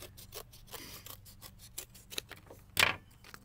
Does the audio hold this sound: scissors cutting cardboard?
yes